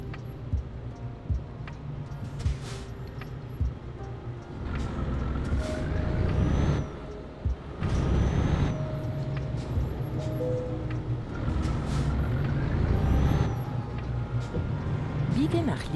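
A heavy truck in Euro Truck Simulator 2 pulls away with a hiss of air brakes and a steady diesel engine rumble that grows louder as it moves off, with game sound effects under occasional speech.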